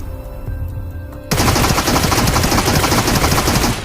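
A Groza rifle firing in the BGMI battle royale game: after a second of quiet background hum, a loud rapid full-auto burst starts abruptly and continues steadily to the end.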